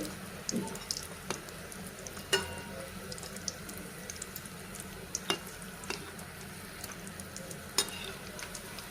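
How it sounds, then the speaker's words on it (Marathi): Potato vada fritters deep frying in hot oil, a steady soft sizzle with occasional sharp crackles and pops, alone without talk. "हे बघा असे चांगले तळवून घ्यायचे"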